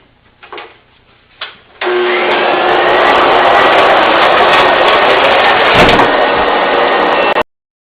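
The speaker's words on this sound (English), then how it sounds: "a guy being attacked by a vacuum cleaner" A vacuum cleaner roars loudly and steadily for several seconds after a few thumps, its motor whine and airflow filling the sound before cutting off abruptly, heard from a played video clip.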